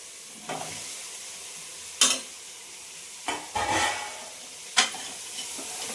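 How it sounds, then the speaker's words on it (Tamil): Vegetables for sambar tossed into a hot pan and stirred, giving a steady sizzle broken by several sharp scraping knocks of the spoon against the pan, close and moderately loud, with no voices. "காய்கறி எல்லாம் போட்டு நல்லா கிளறி விட்டுக்கிறேன்"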